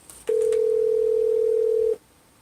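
A steady telephone dial tone sounds loud and alone on a live call-in line, holding one unbroken pitch for about a second and a half before cutting off.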